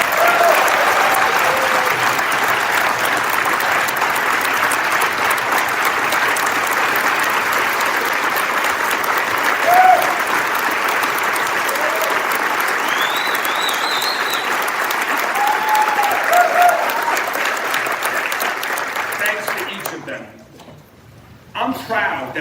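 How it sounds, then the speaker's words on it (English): A room full of people at a Rotary Club meeting in Louisville applauds first responders during the State of the City Address, with steady, loud applause that holds for about twenty seconds before dying away abruptly. "Let's have a big round of applause for every Metro first responder."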